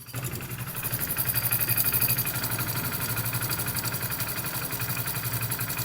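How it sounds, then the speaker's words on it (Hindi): A Hero Splendor motorcycle engine idles after a tappet adjustment, ticking along in a steady, even rhythmic putter, close and fairly loud, with no talking. "अब यहाँ पर हम इग्निशन ऑन करते हैं और बाइक को करते हैं स्टार्ट।"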